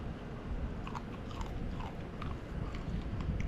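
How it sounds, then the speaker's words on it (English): Crispy fried bluegill fins crunch between the teeth in a rapid run of sharp bites and chewing, close and fairly loud, with no talking over it. "The fins up top, see if they're crispy enough."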